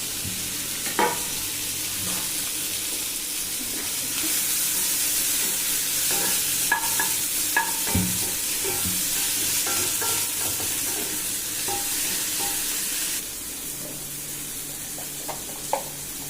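Tomatoes sautéing with dried fish in a hot pan, a continuous close sizzle broken by repeated scraping stirs and clinks of a spatula, with a louder spell midway and no talking.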